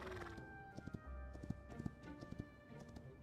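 Horse hooves clip-clopping in the video game Hytale, a quick irregular patter of hoof strikes with a brief whinny, heard alone and fairly close over a steady game ambience.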